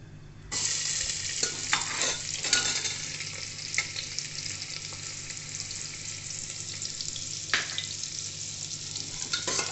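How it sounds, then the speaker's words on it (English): Chopped onions hitting hot oil, a sudden loud hiss that settles into a continuous crackling sizzle, broken by a few scraping stirs. "Once the oil heats up, we're going to add the onions which we have chopped inside."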